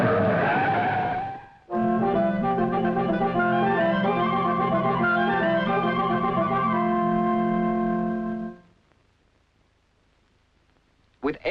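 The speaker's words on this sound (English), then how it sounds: "You use spark engines for free flying. A cut-off on the fuel supply gives a short engine run." A small model-airplane spark engine for free flight buzzes loudly and steadily at a high, harmonic-rich pitch for about seven seconds, then abruptly stops as the fuel cut-off ends the run, leaving near silence.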